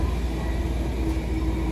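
Steady low rumble and rolling hum inside a nearly empty passenger train moving through England, with a continuous wheel-and-carriage drone.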